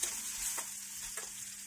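Chopped tomatoes with spices fry in a pan for a ridge gourd curry, giving a soft, steady sizzle with two brief stirring scrapes, close and quiet.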